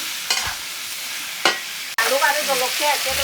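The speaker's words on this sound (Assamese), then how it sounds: "এতিয়া মই চিকেনখিনি ভাজি আছোঁ" Chicken fries in a pan, two short stirring scrapes over a quiet sizzle, then a sudden louder burst of bubbling crackle after a clunk.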